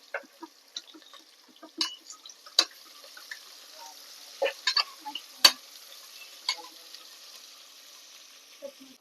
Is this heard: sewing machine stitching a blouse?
no